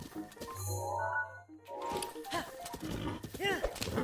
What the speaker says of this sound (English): Why is the horse being like this?